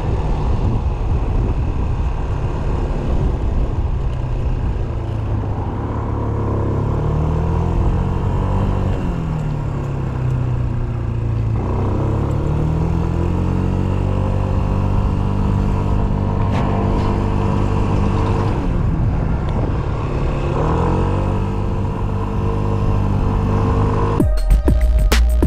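A Yamaha Smax 155 scooter cruises along a Montana road, its engine droning steadily with wind rush and gentle pitch rises and falls as it speeds up and slows, with a brief clatter at the very end.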